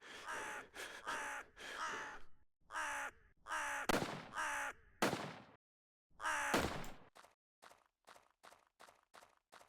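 Repeated harsh crow caws in the Red Lake video game, several close loud calls in bursts, followed by a gunshot-like crack and a fast run of short sharp clicks or taps.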